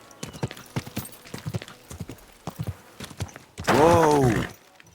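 Horse hooves clip-clop in an uneven trotting rhythm in the video game Kingdom Come: Deliverance II, followed by a loud, close whinny near the end.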